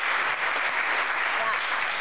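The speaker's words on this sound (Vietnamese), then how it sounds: "Vỗ tay cho anh Thiên Kha" A TV studio audience applauds a guest on a talk show, a dense, steady clapping that fills the whole moment.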